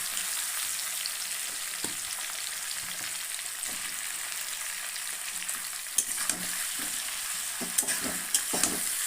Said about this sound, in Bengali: মাছটা সেখানে ভালো করে ভাজতে হয় প্রচুর কাটা থাকে এবার আমি বেগুনটা দিয়ে দেবো